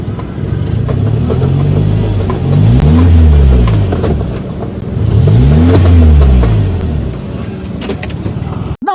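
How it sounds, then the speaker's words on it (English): Vehicles pass close on a busy road in Benin City, Nigeria, two loud engine sweeps rising and falling over constant traffic hum, ending with a sharp horn. "As you can see, the traffic here is"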